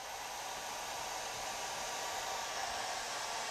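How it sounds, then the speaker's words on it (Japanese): A hair dryer blows air upward to keep a balloon ring spinning, giving a steady, unbroken whoosh of even loudness throughout. "これもドライヤーを使って下から上の方に向かって風を送ります。"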